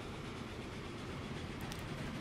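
Steady rail rumble of a lumber train running in the video game Transport Fever 2, a continuous even wash of wheel and carriage noise with faint clatter, held at moderate distance throughout.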